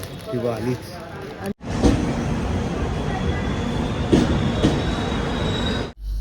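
A Konkan train bound for Madgaon rumbles along steadily with rattling, clattering noise and brief metallic squeals, loud and close, with some talk at the start.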